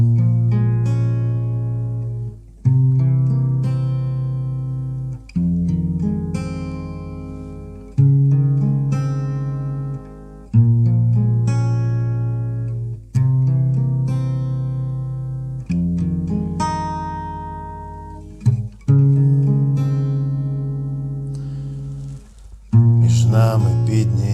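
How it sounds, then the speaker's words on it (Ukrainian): An augmented seventh chord rings out again and again, about nine strummed or struck chords that each decay slowly before the next begins, in a clear, moderately loud, unaccompanied passage. "Це такий збільшений септакорд. І так, от як це буде звучати."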